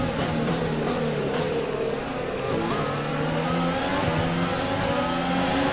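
Formula 1 car engines in the F1 2020 video game at Melbourne scream continuously as Grosjean overtakes. The loud, high revving whine rises and shifts through gears without a break.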